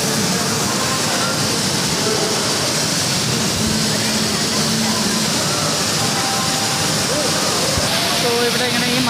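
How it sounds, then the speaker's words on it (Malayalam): Artificial snow and water spray at the Snow Kingdom snow park in Chennai. A dense, steady hissing roar fills the space without pause. "മഞ്ഞിങ്ങനെ സ്പ്രേ ചെയ്യുകയാണ്. ഇവിടെ വാട്ടർ സ്പ്രേ ചെയ്യുകയാണ്."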